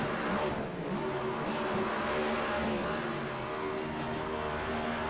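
NASCAR race cars in a racing video game at the Charlotte Motor Speedway Roval doing celebratory burnouts, a steady, dense roar of engines and tire noise that holds loud and unbroken throughout.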